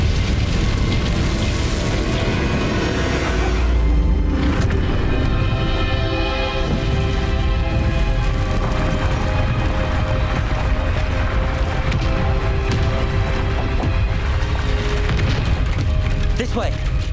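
A loud fiery Incendio spell blast booms out in Hogwarts Legacy, a dense roaring burst with crackling magical rumble sustained throughout under a low game soundscape.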